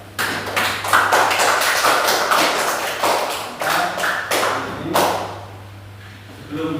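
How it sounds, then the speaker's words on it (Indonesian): A class of students claps together in a classroom, a dense patter of quick, sharp hand claps in short rhythmic bursts, close and loud for several seconds before tapering off. "Kita tepuk aplaus."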